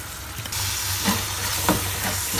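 Cauliflower frying in a pan, a steady loud sizzle with a couple of brief stirring scrapes over it.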